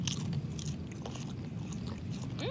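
A toddler bites into a Canadian snack chip up close, making a short burst of crisp crunching and chewing with no talking.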